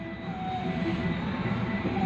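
Tourist special train waiting at Nakhon Lampang railway station, giving a steady low rumbling idle with a faint whine above it, continuous and fairly close, with no voices.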